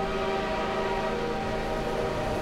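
A train rushes past in the video game Half-Life 2, a steady loud rumble with a droning horn-like tone held for a couple of seconds.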